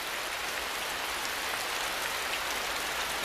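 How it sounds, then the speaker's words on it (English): Steady rain pours onto a tropical Asian rainforest canopy, a dense, even hiss of drops on leaves that stays close and constant throughout, with no voices. "The canopy of the forest breaks the force of the rain and stops it from washing the topsoil away."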